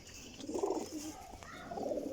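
A Teddy pigeon of the Pipla breed coos in soft, low bursts, one early and another near the end, close by against a quiet background.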